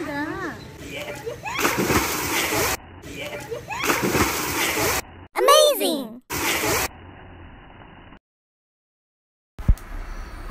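Children splash and jump into a resort swimming pool, with bursts of splashing water mixed with excited kids' shouts and nearby talk, broken by short silent gaps.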